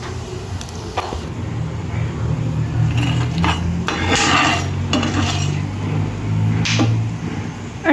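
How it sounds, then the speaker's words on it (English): Peanuts, lentils and red chilies being stirred and roasted in a pan, with steady scraping and clinking of a spoon against the metal over a faint sizzle. "Stir well. We have to roast all the ingredients."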